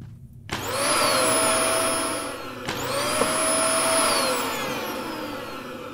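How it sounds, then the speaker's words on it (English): A vacuum cleaner motor whines up loudly and close, cuts off briefly, then spins back up with its rising whir, running on steadily with no talk over it. "vacuum. Why vacuum?"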